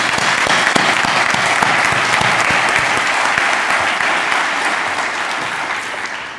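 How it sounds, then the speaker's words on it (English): A large audience at a Nashua High School South scholarship night in New Hampshire applauds. The clapping is full and continuous, rising to a dense roar and then slowly tapering off toward the end. "just a round of applause for all the recognees tonight"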